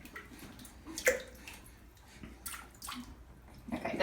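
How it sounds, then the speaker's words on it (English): Bath water drains and sloshes in a tub during water therapy, with irregular splashes, gurgles and drips close by and no speech. "So I'm gonna let some of the water out."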